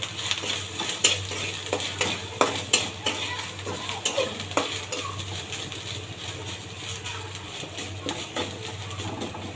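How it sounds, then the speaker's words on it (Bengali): Coconut paste sizzles in a pan under repeated spatula scrapes and stirs, with uneven clattering strokes over a steady frying hiss and a low background hum. "নারকেল বাটাটা দিয়ে দেব, এটাও সুন্দর করে একটু ভেজে নেব"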